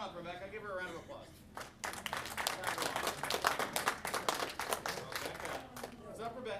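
An audience at a magic show claps for a volunteer called up on stage, dense applause building and holding for several seconds, with a performer's voice over it before and after.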